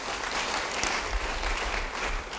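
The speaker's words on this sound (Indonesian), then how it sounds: "Yang setuju beri tepuk tangan bagi dia" Church congregation applauding during a sermon on happiness, a steady dense wash of clapping that holds evenly for a couple of seconds without voices.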